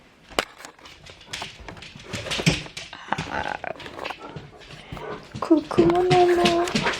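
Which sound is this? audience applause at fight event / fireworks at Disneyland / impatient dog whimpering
impatient dog whimpering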